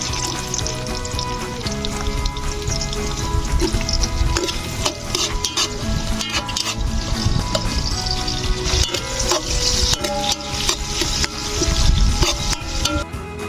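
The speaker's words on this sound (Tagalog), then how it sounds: "lagay na natin itong kaldero para gagamitin natin sa paggisa ng ating mga lamas." Ingredients sauté loudly in a cooking pot for native chicken tinibuok, a close, busy sizzle with spatula scrapes and clinks of metal against the pot, no voices.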